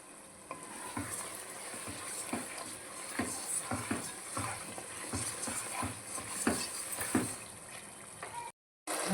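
Chicken frying with cashews in a pan, a steady sizzle with frequent scraping stirs of a spatula, close and continuous, cut by a brief silence near the end.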